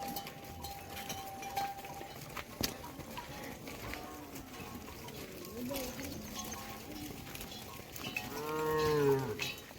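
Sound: cattle mooing

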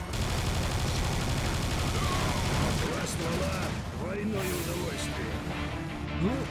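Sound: turret gunfire, from the video game Serious Sam 2

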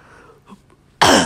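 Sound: cough

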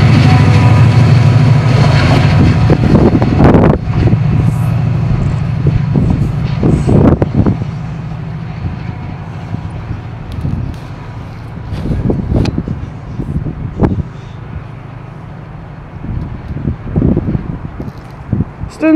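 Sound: train passing

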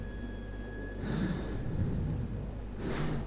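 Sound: labored breathing of a character in the video game Metro 2033

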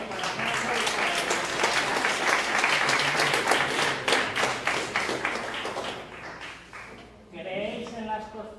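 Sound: audience applause

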